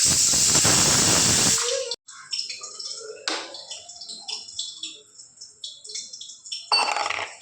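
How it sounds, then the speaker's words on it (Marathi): A pressure cooker on a home kitchen stove vents steam in a loud, steady hiss lasting about a second and a half while mutton is cooked. It then cuts off, leaving softer scattered kitchen clatter and faint sizzling. "आणि कुकरची शिट्ट्या पण व्हायला लागलेत"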